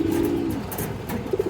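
Giribaz pigeon gives a soft, low cooing phrase near the start, followed by a couple of brief murmuring coos at the end, close by but quiet over faint room noise.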